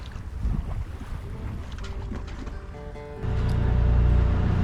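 Waves lap against a sailboat on Lake Ontario as a soft, steady wash with wind noise, and partway through a louder low rumble swells in, with no voices.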